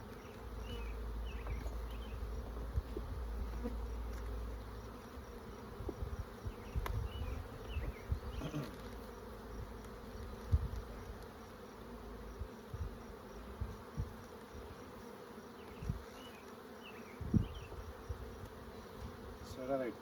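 Honey bees drone steadily in an open brood hive, a dense low buzz holding throughout, with soft knocks and handling noises near the hive.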